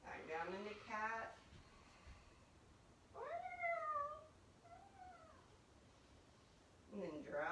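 A person imitates a cat's meow during a cat yoga pose: several drawn-out, rising-falling vocal meows separated by pauses, fairly quiet against a soft background hiss, with speech at the start and end.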